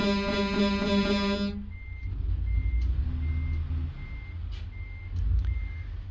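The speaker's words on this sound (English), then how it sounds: "So we're going to back this whole truck up." A truck reverses in a driving video game, its engine rumbling low beneath steady, evenly spaced backup beeps that repeat throughout.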